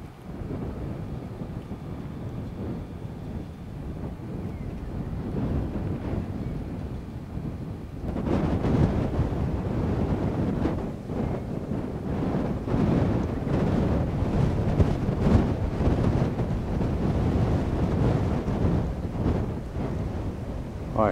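Strong wind buffets the microphone at a lookout above a dam, a rough low rumbling roar that swells louder partway through and keeps gusting steadily.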